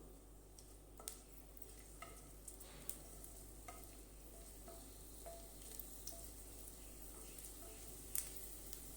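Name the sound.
garlic frying in oil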